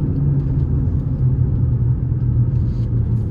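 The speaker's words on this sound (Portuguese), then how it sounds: "O que eu tô observando é só o pneu mesmo que dá um pouquinho de ruído" Tire road noise rumbles from a 2021 Fiat Toro Ranch 4x4 diesel pickup on BF tires, a steady low drone with a faint engine hum and no speech.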